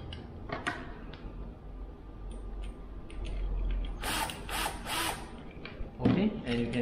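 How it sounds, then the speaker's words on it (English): Power tool tightening bolts on a Jeep JL Wrangler battery terminal, a few short whirring bursts mid-clip with ratchet-like clicks, fairly close and mixed with faint voices. "you just have to tighten these two bolts to actually seat the ends of the copper terminal nicely"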